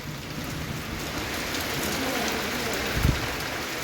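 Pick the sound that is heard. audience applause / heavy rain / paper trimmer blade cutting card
heavy rain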